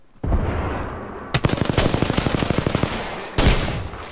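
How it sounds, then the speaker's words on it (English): A machine gun in the video game Apex Legends fires a rapid, evenly spaced burst of loud close shots, preceded and followed by heavy blasts of gunfire. "Opening fire."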